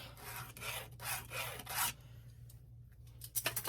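A marker or pencil rubs in repeated firm back-and-forth strokes across fabric cut for a tote bag, close up and alone, with a brief pause before a few quick final scratches.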